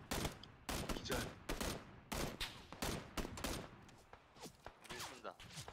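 Gunfire in PUBG Battlegrounds during a squad match: loud, sharp shots and rapid bursts come in clusters, with players talking between and over the shooting.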